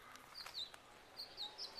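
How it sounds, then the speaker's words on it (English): Small birds in a springtime garden food forest in a Utah mountain valley give faint, scattered high chirps in short bursts against a quiet outdoor background. "Beautiful birds today."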